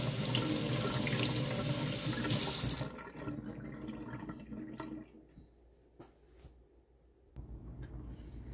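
Vegetables are washed under a running kitchen tap: a loud, steady gush of water close by, easing into softer splashing and trickling with brief clatters before the flow picks up again.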